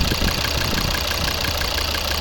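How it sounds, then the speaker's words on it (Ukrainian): A 2011 Volvo V50 with the 2.0 D3 diesel engine and automatic gearbox idles close by, giving a steady, even rumble with a faint clattering texture and no break or voices. "Навіть на холостих гляньте, аж притягує кришку"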